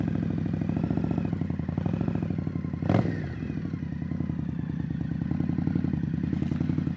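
An Indian Scout motorcycle engine runs steadily while being ridden, a close, continuous throbbing rumble with a brief clattering bump partway through and no talk.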